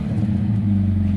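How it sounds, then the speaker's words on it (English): A turbocharged Subaru BRZ engine runs after a repair, giving a steady, close, low rumble with a slight rise in revs and no talking. "so rev it up a little bit"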